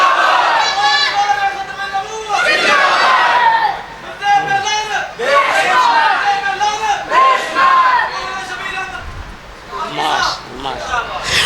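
A large crowd at a religious gathering on Khatm-e-Nabuwwat loudly chants slogans in unison, answering a leader's calls in repeated rhythmic waves of voices.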